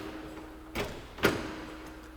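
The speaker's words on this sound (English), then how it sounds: "For example, brand new microwave, and as you guys can see, the door will not open." A brand new microwave's door is tugged but stays shut, giving two short knocking clunks about half a second apart, close and otherwise quiet.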